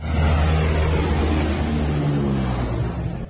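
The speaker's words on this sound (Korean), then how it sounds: "앞선 트럭 지붕 위를 스치듯 다가오는 비행기." A transport aircraft with landing gear up roars low over a road of cars and trucks in a city, a loud steady engine drone filling the whole span, close and overwhelming.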